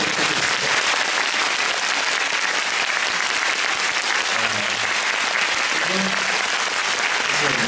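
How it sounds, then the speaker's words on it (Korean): A concert audience at a live idol performance applauds steadily for the whole span, dense continuous clapping with a faint murmur of voices beneath. "부담을 팍팍 주시게 박수 한번"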